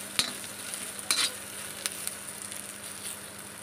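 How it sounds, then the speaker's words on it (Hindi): Grated ginger frying with onions for mung dal kachori filling hisses in a steady, close sizzle, broken by a few sharp clinks of a spoon against the pan. "2 मिनट इसे भी भून लेंगे अच्छे तरीके से।"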